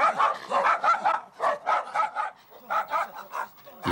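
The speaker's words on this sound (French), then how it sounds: "La réaction des chiens de Victor est convaincante." Several dogs bark rapidly and excitedly in close bursts at a life-size synthetic tiger decoy painted to look real, with yips and whimpers between volleys.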